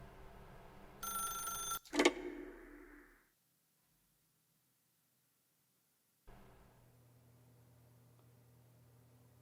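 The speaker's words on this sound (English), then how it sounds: "I don't think it's gonna stop ringing." Telephone ringing in The Stanley Parable video game, a loud electronic bell ring cut off abruptly, then near silence and a faint low room hum.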